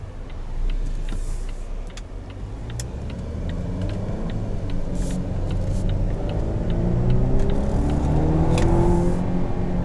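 A 2019 Volvo XC90 with a supercharged and turbocharged engine accelerates from inside the cabin, a steady rising drone that builds gradually with road rumble and no voices.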